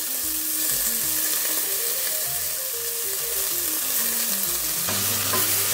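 Spinach and corn being stirred in a hot frying pan, a steady sizzle with scraping of the spoon against the pan throughout, close and loud with no talking.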